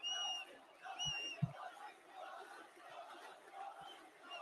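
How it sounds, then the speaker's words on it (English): A stadium crowd at WWE Crown Jewel chants a name in rhythmic unison. The sound is distant, steady and moderately loud, with a few short thuds. "everybody's like chanting Dusty's name"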